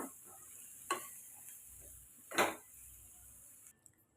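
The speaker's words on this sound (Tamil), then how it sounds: "இப்போ மசாலா அந்த சூட்லேயே நம்ம வதக்கலாம்" Masala spices stirred and roasted dry in a hot pan, heard as two distinct scraping strokes with faint background sizzle, quiet and close.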